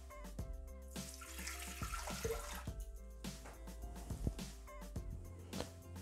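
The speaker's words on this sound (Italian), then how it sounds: "Iniziamo la ricetta mettendo all'interno del boccale l'acqua." Water poured into a Thermomix bowl while making choux pastry, a steady running splash with a few clinks and knocks, close and fairly quiet throughout.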